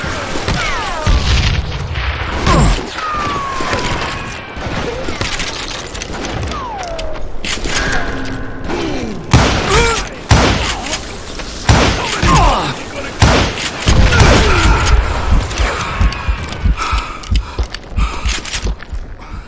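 Booming gunshots and explosions from the Western video game Call of Juarez: Gunslinger, loud and close, arriving as irregular heavy thumps and bursts across the scene, mixed with in-game voices and effects.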